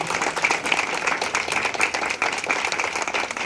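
A crowd at a branch opening ceremony gives a burst of steady, dense applause for Nileshbhai, with many hands clapping at once. It is close and lively and keeps going through the whole stretch.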